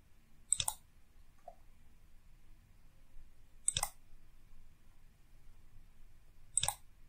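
Mouse clicks while applying a coupon on a shopping website: three crisp, close clicks spaced a few seconds apart in a quiet room, with no talking.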